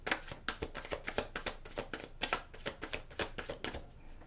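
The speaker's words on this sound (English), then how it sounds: "One more shuffle." A deck of tarot cards being shuffled close by, its quick riffling bursts repeating in a steady rhythm with no talking.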